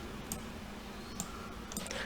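Faint, sparse clicks from a computer mouse wheel scrolling down, a few quick ticks spread over about two seconds against a quiet room hiss, while someone works through a C++ SFML programming tutorial.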